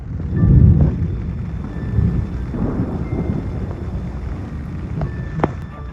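Thunder rolls and rumbles through a nighttime storm in the Pyrenees mountains, with a heavy boom near the start, a long low grumble, and sharper cracks near the end over steady rain and wind.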